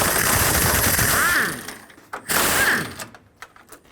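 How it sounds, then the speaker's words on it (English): A ratchet works on the top intercooler bolts of a 2008-2010 Ford F-250, with bursts of rapid clicking and a loud rasping mechanical rattle, broken by a short pause before a second burst and a few scattered ticks. "I'm going to loosen the two top intercooler bolts."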